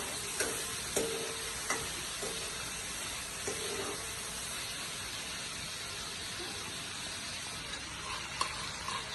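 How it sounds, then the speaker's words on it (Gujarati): Tomato puree simmering in a pan for a Gujarati onion curry, a soft steady bubbling sizzle with occasional light clicks of a spoon, faint and close. "એમાંથી 1 વાટકી જેટલી ટમેટાની પ્યોર બની હતી નાખીશું અને થોડી વાર ખદખદવા દઈશું"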